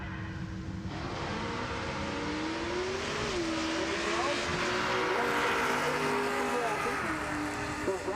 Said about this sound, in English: third gen. Camaro, listen to the car right-hand side